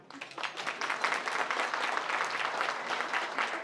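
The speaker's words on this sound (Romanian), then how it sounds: "Aplauze pentru domnul Ioji" Applause from a party crowd at a festive gathering in Transylvania, a dense steady patter of many hands clapping close by, sustained and loud with no talk over it.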